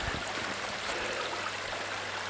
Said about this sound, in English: This is just a beautiful creek crossing here.